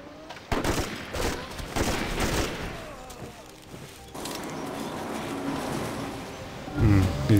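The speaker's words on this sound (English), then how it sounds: "These rocket artillery are really effective." Rocket artillery units firing in Civilization V: a volley of rapid explosive bursts with a dense rumble, then a sustained roaring blast and a few sharp crackles near the end.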